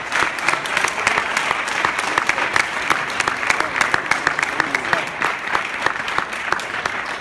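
An audience applauds in honour of Afrika Bambaataa, head chief of the Zulu Nation, in a sustained, even burst of many hands clapping at moderate volume with crowd noise underneath.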